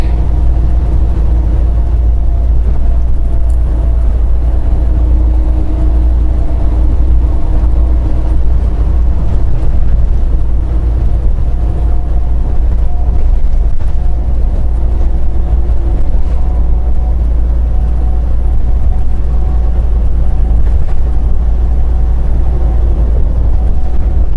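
A loud, steady engine rumbles continuously with a deep low drone, close by and unbroken throughout.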